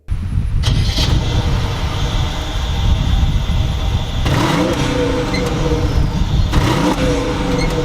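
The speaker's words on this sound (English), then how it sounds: "And of course it just starts right up here. It is a V8 engine under the hood, but it being a luxury car, it is rather quiet." A 2013 Mercedes S550 with a V8 fires up, a starter crank giving way to a steady, quiet idle that runs continuously at close range, with no talking.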